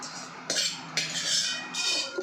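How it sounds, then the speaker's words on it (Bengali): A metal spoon stirs chutney in a bowl, making three distinct scraping, clinking strokes close to the listener at a steady pace, with no one speaking. "এটাও আমি চামচ দিয়ে ভালো করে মিশিয়ে দেব"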